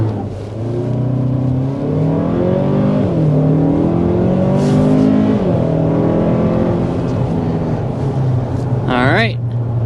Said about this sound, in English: But first, we want to go ahead and start with a hard acceleration.